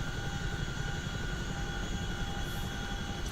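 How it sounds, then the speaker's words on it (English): A Chinook helicopter flying in within a military flight-simulation game, a continuous loud rotor and turbine drone with steady tonal whine and rumbling low end, no voices. "Here's Doc coming back in his Chinook."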